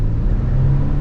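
A 2020 Ford Transit 350 AWD cargo van accelerating, its engine note a loud, steady low drone from inside the cabin for about a second, with no one talking.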